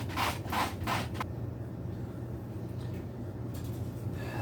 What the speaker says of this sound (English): Let's try again, maybe sanding it without primer.